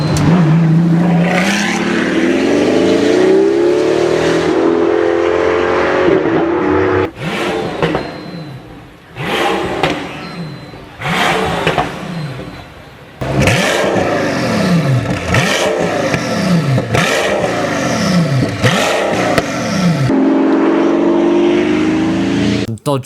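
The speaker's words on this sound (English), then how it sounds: "This guy straight piped his Pagani Huayra and it sounds so loud." A straight-piped Pagani Huayra revs hard and loud, with repeated crackling throttle blips and roaring surges separated by brief drops, sounding close and raw throughout.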